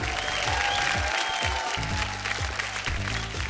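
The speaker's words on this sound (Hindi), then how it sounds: "और एक बार जोरदार तालियां भोजपुरी सिनेमा के सुपरस्टार आन बान शान हमार छोट भाई पवन सिंह जी खातिर।" Loud crowd applause greets Bhojpuri film superstar Pawan Singh on a TV stage show, a continuous roar of clapping over a pulsing music beat.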